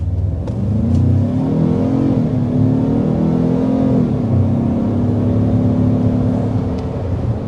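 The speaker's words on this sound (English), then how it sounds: "I like what they've done with the engine sound as well. They've really kind of given it this beefy note." A 2025 Ford Maverick Tremor pickup's engine accelerates with a loud, beefy, steady drone that rises and shifts in pitch as the truck pulls away, heard close and alone.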